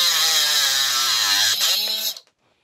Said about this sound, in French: Voyons maintenant cette mini-meuleuse en situation avec la découpe d'une tige filetée.